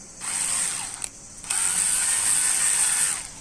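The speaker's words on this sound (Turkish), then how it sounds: "bakın şu üç vidayı da söküyoruz" A ratchet screwdriver unscrews the screws of a lighted, remote-controlled ceiling fan, making a loud, steady metallic ratcheting whir in two long runs split by a short break, with no talking.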